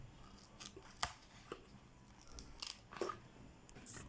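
Scissors snip excess material off a handmade sandal sole, giving a few sharp, separate cuts spaced irregularly over quiet room tone, close and fairly soft.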